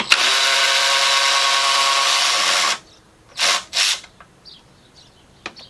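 A power tool whirs steadily for a few seconds while a 10mm nut comes off the top of an oil cooler bracket on a 2018 Jeep Grand Cherokee 3.6L Pentastar engine, followed by two short bursts and light clicks.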